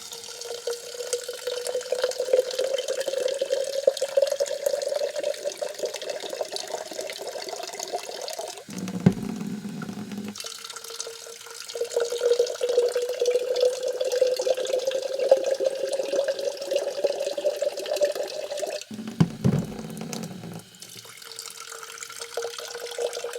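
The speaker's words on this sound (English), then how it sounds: "so I'm just going to refill this with water" A tap runs steadily into a container, the pitch rising as it fills. The flow stops twice with brief clunks and then starts again.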